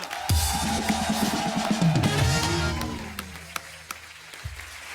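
Audience applause for actress Aruna Irani at a Hindi show, a dense burst of clapping that fades after a few seconds, leaving a few scattered claps.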